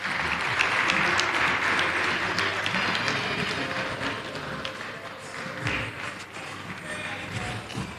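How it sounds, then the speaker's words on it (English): Sustained audience applause at a municipal cleanliness competition event, a thick continuous roar of many hands clapping that holds steady throughout, with some thumps and faint voices underneath. "Can we give another round of applause to our one and only?"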